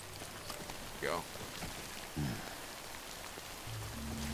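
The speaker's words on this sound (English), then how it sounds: "And now that it's raining," Soft, steady rain patters in the background of the video game Death Stranding while a few brief tonal sounds and low thuds come and go, fairly quiet overall.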